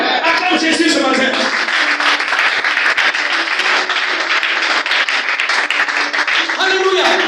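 A church congregation claps and cheers in acclaim of Jesus, loud continuous applause mixed with shouting voices and a preacher speaking over it, filling the whole stretch.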